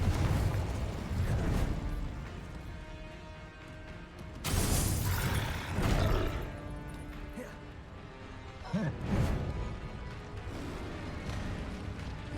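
Confringo blasting spells going off in Hogwarts Legacy combat: three loud, crashing explosive bursts spaced several seconds apart over a rumbling backdrop of game noise.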